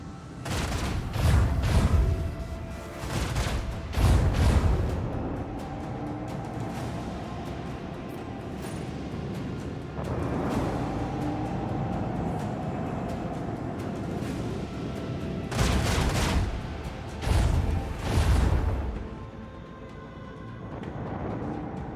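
Starship guns and torpedoes fire in the space combat of WH40K Rogue Trader, with heavy booming volleys in separate clusters, deep rumbling impacts and a steady low drone between them.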